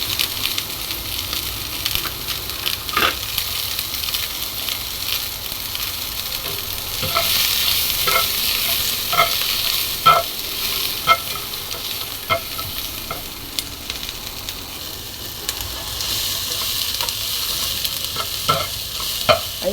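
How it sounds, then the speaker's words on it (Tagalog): White onions and spring onions sauté in a pan for arroz caldo, a continuous sizzle with repeated sharp spatula scrapes and stirs, loud and close. "dagdag natin ang ating sibuyas puti at saka sibuyas dahon Gisa-gisa na natin"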